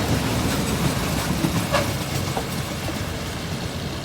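Train 260 rumbles along the rails in Thailand with a dense, steady roar and a faint high squeal of brakes rising briefly in the middle.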